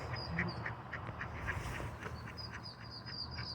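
A mother duck quacking in short repeated calls, faint and somewhat distant, while reuniting with her ducklings outdoors, with soft peeps and background noise around her.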